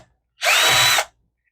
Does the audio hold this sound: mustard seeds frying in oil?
no